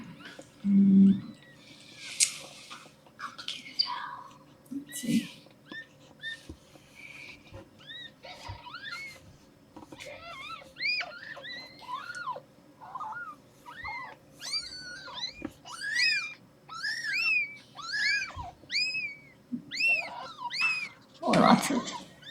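Cat Smudge, in labor giving birth, makes a long series of close, strained yowls and moans, sparse at first and then coming in a rapid rhythmic run, with occasional thumps and rustling between calls.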